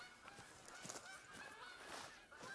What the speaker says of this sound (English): Constant geese overhead,